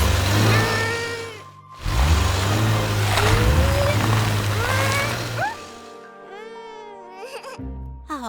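A cartoon dune buggy with big back wheels races around in the sand, its engine humming and revving steadily. Lively animated voices and childlike babbling run over it almost throughout.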